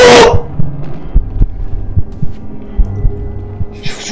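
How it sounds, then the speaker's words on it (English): Low, muffled video game heartbeat thumps beat in a slow, steady rhythm, with a short burst of noise at the very start. "I can already hear heartbeats"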